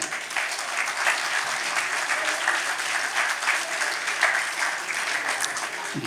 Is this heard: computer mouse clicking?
no